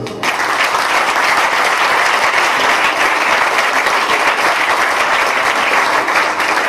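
A church congregation applauds the Lord with loud, steady, sustained clapping from a large crowd, dense and continuous throughout without pause.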